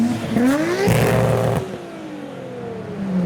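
A Nissan Skyline R32 accelerates past on a road lined with custom cars, its engine note rising loudly as it passes close, then fading off while another engine is heard.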